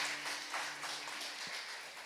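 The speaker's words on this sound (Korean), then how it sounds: "우리 박수 한번 크게 주시기 바랍니다" Congregation applauding during a Sunday church service, celebrating the completion of a new-members course: soft, steady patter of many hands, fairly distant and low in level, with no voices over it.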